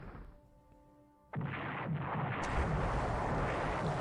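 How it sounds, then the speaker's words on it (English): Bombs striking a ship in the naval war game War in the Pacific: Admiral's Edition, a sudden heavy blast that swells into a sustained, loud roaring rumble with no voices over it. "2 bomb hits, very good."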